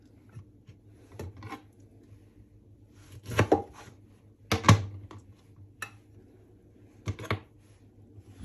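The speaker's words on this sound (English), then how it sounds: "Now I'm gonna just use the chopping board and chop them into halves, like so." A knife halves Brussels sprouts on a chopping board, with several sharp, separate chops, some in quick pairs, spaced irregularly over quiet background hum.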